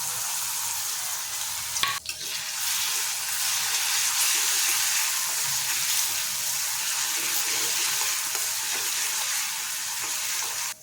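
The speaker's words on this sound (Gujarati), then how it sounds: "જીરું આપણું પકડે છે એટલે આપણે આદુ લસણ મરચાંની પેસ્ટ નાખીશું।" Ginger, garlic and chili paste dropped onto cumin in hot oil for a drumstick and potato curry, a dense, loud, continuous sizzle after a brief clatter of the paste going in.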